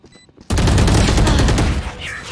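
Rapid gunfire in Valorant on a laggy high-ping server, a dense unbroken burst of loud, close shots running for about a second and a half after a quiet start, then cutting back.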